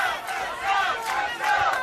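A crowd at The World's Strongest Man 2017 roaring and yelling in support of a strongman during a deadlift, a loud, dense wall of shouting voices that swells and surges.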